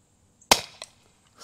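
A CO2-powered 3D-printed Nerf shotgun pistol fires one sharp, loud pop up close, followed by a fainter secondary clack and a short tail of quiet.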